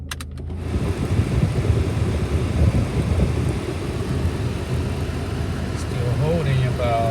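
Engine of a 1997 Honda Accord LX idling low with the air conditioning on high: a steady, close, rumbling drone, with someone talking over it throughout.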